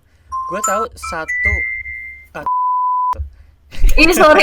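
A mobile phone notification beeps during an indoor conversation, sustained electronic tones at steady pitches sounding among voices, with people talking before and after.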